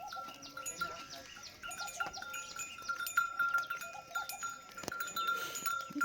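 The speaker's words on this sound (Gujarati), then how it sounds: "ગાયો ભેંસો બધી આવી ગઈ છે." A herd of cows and Kankreji and Banni buffaloes arrives at a farm in Kutch, with cowbells clinking and ringing irregularly at close range amid animal calls and low background murmur.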